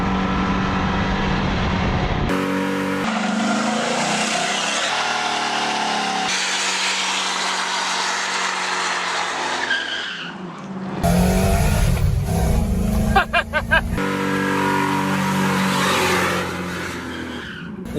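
A cammed 5.3 liter V8 with its exhaust dump open, loud and close, revving in several bursts with abrupt cuts between blips and a choppy lope, no talk.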